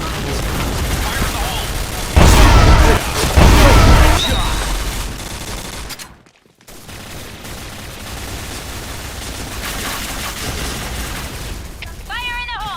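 Two heavy, booming grenade blasts go off close together in the online shooter Point Blank during a match, followed by quieter game noise and brief chirpy effects, with excited talk around them.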